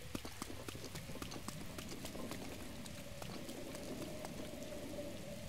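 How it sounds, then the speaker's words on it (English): Rain in the video game Zelda Breath of the Wild: a steady patter of drops with sharp, irregular clicks and taps over a continuous soft hiss throughout. "Yeah, the rain is back."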